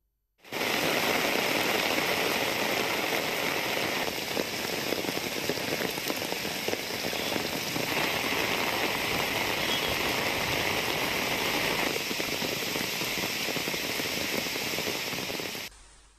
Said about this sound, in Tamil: பொன்னேரி மற்றும் சுற்றுவட்டார பகுதிகளில் கடந்த இரண்டு நாட்களாகவே மழை நீடித்து வருகிறது